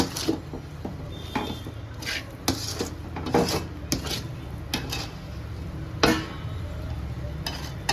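Coconut sweet mixture for topra pak being stirred in a pan over a low flame, giving a steady soft rubbing and scraping with brief louder scrapes, close and alone.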